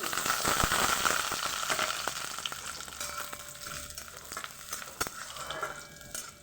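Chopped coconut frying in hot oil in a pan, a loud crackling sizzle at first that slowly settles, broken by occasional sharp clicks of a spoon stirring, no speech.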